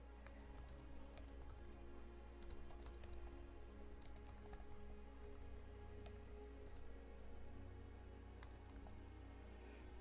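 Steady computer keyboard typing runs throughout, a dense patter of small clicks over a constant low hum, fairly quiet and close with no voices.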